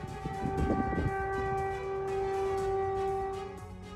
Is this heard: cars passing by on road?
no